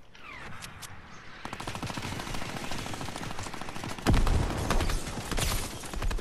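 Minigun fire in the Fortnite battle royale video game, rapid rattling bursts that thicken into a dense, continuous stream with a loud impact partway through, and no talking.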